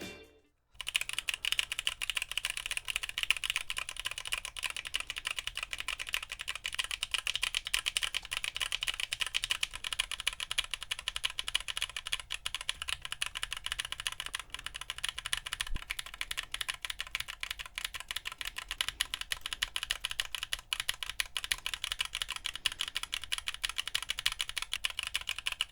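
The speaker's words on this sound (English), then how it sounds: "I lubed some switches with Tribosis 3203 and filmed with Deskey's films. Let's take a listen after the mods" Keys with KTT Monochrome Onyx tactile switches, lubed with Tribosys 3203 and fitted with Deskey films, are typed on in a steady, fast, continuous stream of soft clacks that stays close, even and fairly quiet.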